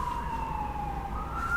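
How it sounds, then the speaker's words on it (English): An emergency vehicle siren wails faintly in the distance over a low traffic rumble, its tone sliding slowly, brief and steady. "I'm so sorry about the sirens, guys."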